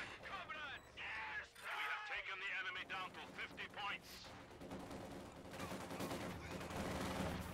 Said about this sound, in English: So we saw Jesulin calling down an anti-tank strafing run down south, which also does a lot of damage to infantry.